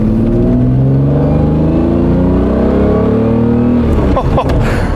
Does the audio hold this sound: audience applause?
no